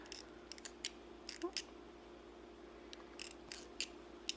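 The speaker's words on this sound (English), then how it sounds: "Snip off that yarn tail" Quiet, scattered snips of scissors cutting yarn, a few quick clicks clustered together over a faint steady hum.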